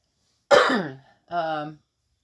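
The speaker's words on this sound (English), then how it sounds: "I still have to cough" A single throaty cough or throat clear, close and fairly loud, followed after a short pause by a second rougher, voiced cough.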